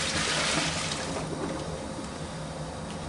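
Tap water runs steadily into a kitchen sink while a pot is washed during home canning, a continuous close splashing rush that eases slightly after the first second, with no talking.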